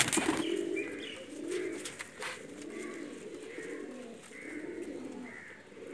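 Pakistani Rampuri cross Teddy pigeons coo repeatedly in soft, rhythmic rolling calls close by, with faint chirps and light background noise.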